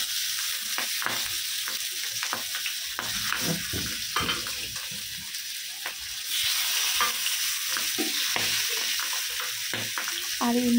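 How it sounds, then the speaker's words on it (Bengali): Boal fish pieces fry in hot oil, a loud continuous sizzle and crackle with occasional clinks and scraping from a utensil, steady throughout with no speech. "আর এই মাছটা খুব সাবধানে ভাজবেন, কারণ কি মাছ ভাজার সময় খুব তেল ছেটে"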